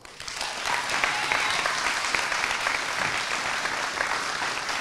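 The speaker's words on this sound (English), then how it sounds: "let's give them a good round of applause as they come up, all right?" A school Class Day audience in Spencer, Massachusetts applauds scholarship recipients as they come up, with steady, sustained clapping from a large crowd filling the whole stretch.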